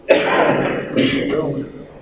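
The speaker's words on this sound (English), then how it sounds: "People were coughing." Coughing and throat clearing from an audience during a talk on Daniel chapter 11, a couple of short harsh bursts close by with voices mixed in.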